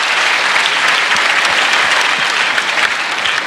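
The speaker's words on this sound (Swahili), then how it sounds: "Pigeni Mogeka Secondary makofi." Students at a career fair applaud Mogeka Secondary with sustained dense clapping, loud and close, a crowd of many hands filling the space without a break for several seconds.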